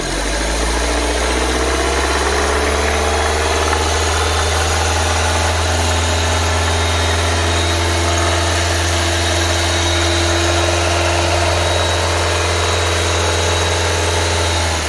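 A Nissan Livina X-Gear with an automatic transmission runs steadily at 2000 rpm, an even, continuous engine hum with a deep low drone and no change in pitch, heard close and alone.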